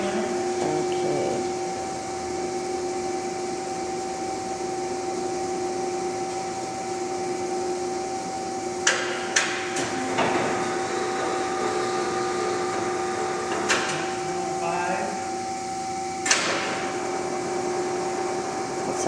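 A LeBlond 22x77 lathe with Servo-Shift, in good condition, turns at 38 RPM. It gives a steady machine hum with a clear, constant tonal whine and a few sharp clicks or knocks over an even background drone.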